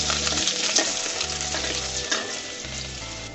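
Chopped onion frying in hot oil with panch phoron, a steady close sizzle with faint stirring scrapes and a low background hum throughout.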